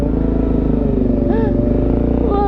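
Yamaha R6 sport bike engine idling and revving gently nearby, a steady low mechanical throb with a brief rise in pitch midway, under light background noise.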